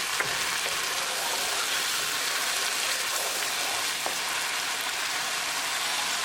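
Tadka of oil and spices frying on a burner while making malai paneer, a steady close sizzle and crackle with occasional small pops, no talking.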